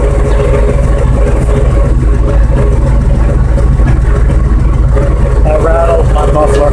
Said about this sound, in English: I rattled my muffler